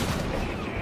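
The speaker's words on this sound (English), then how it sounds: "you can see the anti-aircraft guns firing into the sky" Anti-aircraft skyfire cannons in a video game firing into the sky, a dense, continuous barrage of overlapping booms filling a brief moment, loud and steady.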